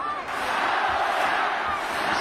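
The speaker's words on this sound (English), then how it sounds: "To the home crowd now, really get behind him." A home crowd roars steadily at a boxing match between Donaire and Inoue, a dense, loud wall of cheering and shouting with a commentator's voice beneath.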